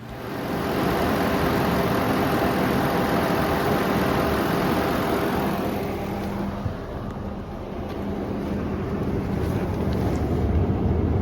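Engine of a 2010 Mercury Grand Marquis idling with its cooling fan wired straight to power, a steady loud rumble and fan rush that dips briefly midway and holds otherwise constant.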